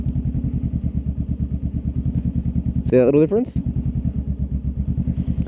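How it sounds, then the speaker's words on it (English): A motorcycle engine idles in a steady, throbbing pulse with the front brake on, and the revs sag slightly as the clutch reaches its bite point; someone briefly speaks over the close, continuous engine note. "Bite point is, you'll even hear the revs die a little bit."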